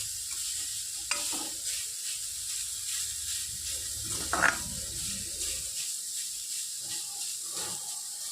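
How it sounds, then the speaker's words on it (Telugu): Grated beetroot fries in generous oil for a homemade pickle, cooking until its moisture is gone: a soft, continuous sizzle with occasional stirring scrapes and a brief louder burst midway, close but fairly quiet, with no voices. "ఈ తడంతా పోయే వరకు బాగా వేగిపోవాలండి"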